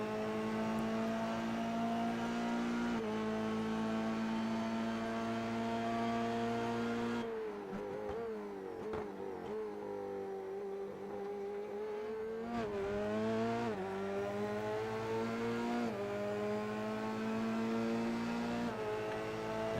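From onboard a Formula 3 race car in iRacing at Sebring, a loud, steady high engine whine holds at speed, then drops through the revs under braking and climbs again as the car accelerates out of a corner.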